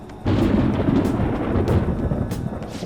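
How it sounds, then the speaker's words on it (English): Rumbling thunder rolls in from a distance in a Persona 5 Royal scene, a sustained low roar with faint crackles that swells and fades on its own. "It sounds like it's going to rain."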